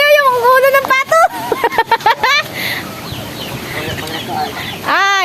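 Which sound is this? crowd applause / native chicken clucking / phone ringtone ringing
native chicken clucking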